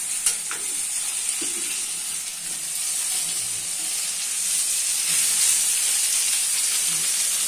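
Eggs fry in a pan with a steady, close sizzle and hiss lasting throughout, with a few faint clicks of stirring beneath and no talking.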